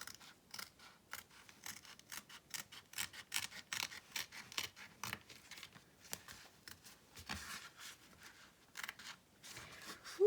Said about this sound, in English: I'm just going to go around and trim it right up to my stitch